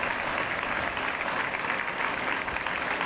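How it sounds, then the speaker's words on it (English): Sustained applause from both delegations at a treaty event, a dense, even wash of many hands clapping continuously throughout, fairly loud with no talking over it. "And a round of applause from both sides."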